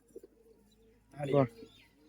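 Old pigeons in a loft give a soft, brief cooing burst after a couple of small taps, faint and close, with quiet background noise around it.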